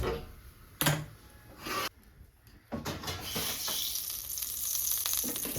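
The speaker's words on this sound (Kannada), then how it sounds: "ಇಷ್ಟನ್ನು ಸ್ವಲ್ಪ ಎಣ್ಣೆ ಹಾಕ್ಕೊಂಡು ಫ್ರೈ ಮಾಡ್ಕೊಳ್ಳುವ ಆಯಿತಾ" Greens, curry leaves and onion fry in a little oil, the sizzle surging and dropping in bursts with a few sharp clicks of stirring before settling into a steady crackle.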